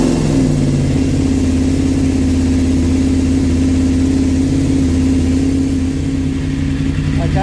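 A 2021 BMW F750GS TE motorcycle engine idles loudly and steadily close by, holding an even low rumble that lifts slightly near the end.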